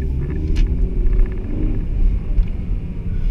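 A manual five-speed car idles low in first gear after a downshift in a parking lot, a steady close engine rumble with slight fluctuations and no talking.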